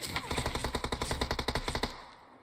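Rapid automatic gunfire from PUBG Mobile, a burst of roughly sixteen quick, evenly spaced shots lasting about two seconds and then cutting off, loud and close.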